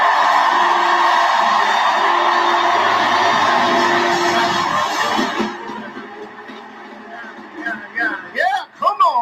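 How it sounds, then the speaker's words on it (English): An audience stands and cheers for a reverend senator: a dense roar of whooping, yelling and clapping holds loud for several seconds, then fades as scattered voices and shouts break through. "Why don't everybody stand up and give Reverend Senator Clemente Pinckney a good round of applause"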